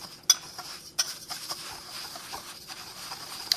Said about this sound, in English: I'm going to give these a stir before I mix those into the apples.